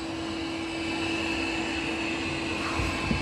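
A Roomba 205 DustCompactor robot vacuum and mop runs its cleaning cycle as a steady, moderately loud motor whir with a constant tone, heard close by and without any talk.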